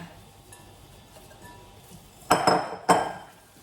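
A spoon clinks and scrapes in a bowl as sweet rice flakes are tossed with grated coconut, first faint stirring and then two sharp, close clatters near the end.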